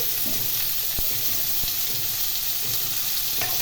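Potatoes fry on a low flame in a pan for an aloo jhinge posto curry, giving a steady, dense sizzle with a couple of faint clicks. There is no talk.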